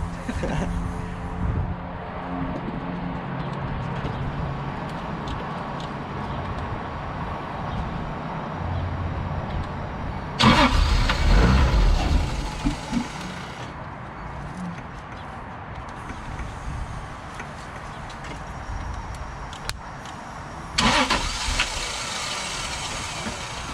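A neglected Turbo SC car, its throttle body closed for another try, cranks in two loud bursts of starter effort over a steady low engine rumble, without catching.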